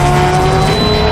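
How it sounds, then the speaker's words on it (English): A GT race car, a modified street car with stripped interior, drives hard around Oulton Park circuit in Cheshire, England, its engine a loud sustained roar with some tire noise throughout the short burst. "GT race cars are souped-up versions of street cars."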